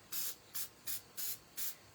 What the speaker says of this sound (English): so we're gonna spray just a little bit